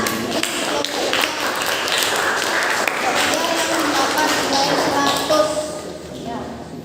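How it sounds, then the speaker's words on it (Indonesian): A classroom of students claps together for a student group, a dense patter of many hands filling the room for several seconds, with voices mixed in and the clapping thinning toward the end. "jadi ini kita kasih apresiasi tepuk tangan yang meriah untuk kelompok"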